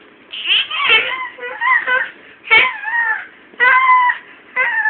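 A cat meows repeatedly up close, several loud drawn-out cries in a row with brief pauses between them.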